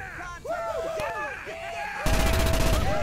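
Rapid gunfire and blasts from a Starship Troopers first-person shooter, sustained and loud with a dense burst of automatic fire taking over in the second half, mixed with game effects.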